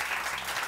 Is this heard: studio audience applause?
yes